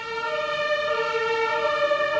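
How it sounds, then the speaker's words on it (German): An ambulance or police car siren wails steadily as the vehicle drives past, sounding loud and continuous with a slowly shifting pitch. "warum jetzt den Krankenwagen oder Polizeiwagen vorbeifahren muss"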